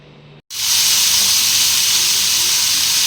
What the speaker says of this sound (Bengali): এটা আমি ঢাকনা দিয়ে পাঁচ মিনিটের মতো নাড়াচাড়া করে করে ভেজে নেব